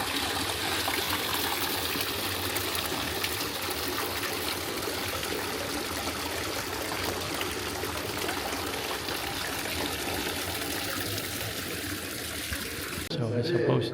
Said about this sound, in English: And the sound of the water is just soothing.